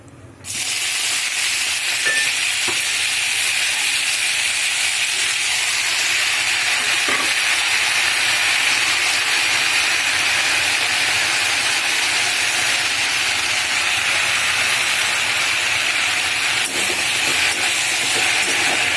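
Spinach tossed into simmering dal and stirred in a hot pan, giving a steady loud sizzle with soft scraping stirs throughout and no voices.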